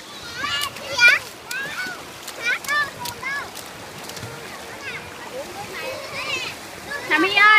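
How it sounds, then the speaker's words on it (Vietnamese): Children bathing in a cool countryside stream splash the water in intermittent bursts nearby, while an adult and children's voices chatter and call out over the watery sounds throughout. "các em bé đang tắm kìa."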